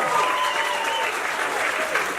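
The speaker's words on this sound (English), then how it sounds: "Give her a round of applause" Audience applause fills a stand-up comedy club during crowd work, a steady, dense wash of clapping with some crowd noise, loud and continuous throughout, with no talking over it.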